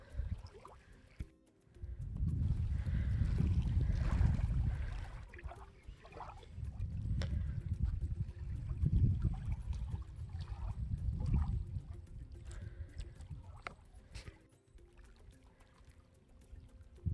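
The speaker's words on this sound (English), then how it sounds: "it's barely waves, but it's like the closest thing to a beach I've been to in a really long time" Small waves lap at the edge of a lake or river in the Central Texas Hill Country near Spicewood: soft, low washes of water swell and fade in a slow, irregular rhythm, quiet and close, with no talking.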